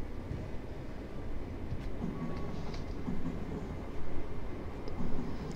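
A regional train on the Mittenwald to Garmisch-Partenkirchen line in Train Simulator 2019 rumbles steadily along the track, a continuous low rolling drone that swells slightly toward the end.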